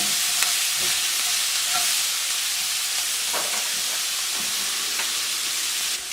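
Onions, celery and garlic frying in oil in a pan, a steady close sizzle with light stirring scrapes throughout, no voices.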